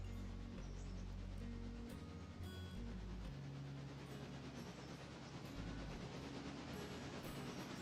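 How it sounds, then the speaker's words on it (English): A heavy freight train rolls along the rails in the railway game Railroader, giving a continuous low rumble with shifting engine tones and faint clicking wheels, steady and quiet with no talk. "This is a heavy train, though, but I think you're doing fine."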